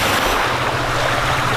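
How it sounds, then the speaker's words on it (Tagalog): Sea surf rolls onto a white-sand beach at Dimiao, a steady broad wash of waves with low wind rumble, continuous and fairly loud, no voices. "Mao nilang dagat dire guys."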